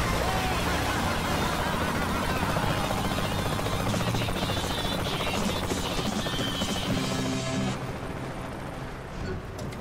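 Helicopter flying in the video game Saints Row The Third Remastered, a loud continuous rotor-and-engine drone that holds steady and then eases slightly toward the end.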